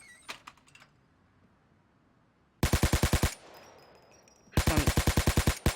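Rapid automatic gunfire in the video game Payday 2 comes in two loud, tightly spaced bursts after a brief muffled rattle, with a man's short exclamation near the start.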